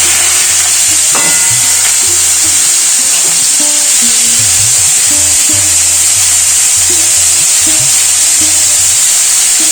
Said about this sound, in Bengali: ফোড়নগুলো সব ভাজা হয়ে গেছে এর মধ্যে আমি মোচাটা ঢেলে দেবো